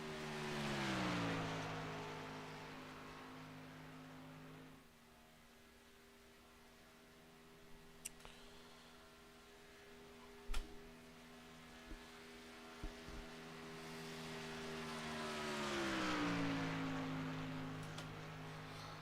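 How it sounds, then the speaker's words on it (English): A race car passes on the Talladega racetrack with a rising, then fading engine drone. A second pass later builds with a Doppler pitch drop. A few sharp clicks and thumps sound in the quieter middle, with no talking. "Justin Miller car rolling out onto the racetrack now."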